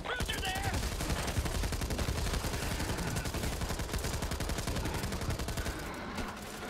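Dense, continuous gunfire in the zombie shooter Back 4 Blood, rapid overlapping shots crowding the whole clip at steady loudness, with game noise around it.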